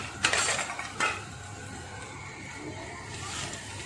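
Fried chicken cubes tipped into cooked vegetables in a pan, two sharp metallic clatters near the start followed by a low continuous cooking hiss and faint utensil scrapes.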